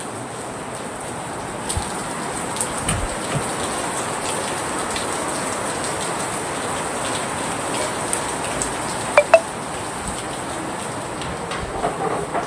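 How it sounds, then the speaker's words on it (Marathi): Heavy rain pours steadily in Mumbai, a dense close hiss of drops on surfaces with a few brief louder splatters, continuous and unbroken, no voices. "तुम्ही पाहू शकता पाऊस किती आहे, निघायच्या वेळेला पाऊस किती पडतोय हे बघा"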